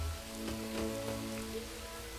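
Steady, soft rain hiss in the Lego Lord of the Rings video game, with faint tonal game music humming underneath and no voices.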